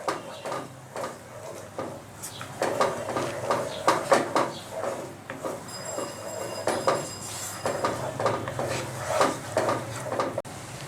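Spices for Bengali tel koi are fried in a pan and stirred steadily, with repeated metallic clinks and scrapes of a spatula over a low sizzle, close and fairly loud, with no talking.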